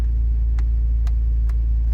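Blower motor of a car's air-conditioning system running with a steady, loud low drone and a few faint ticks over it, without any talk.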